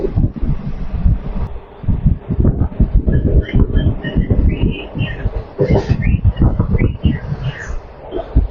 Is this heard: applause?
no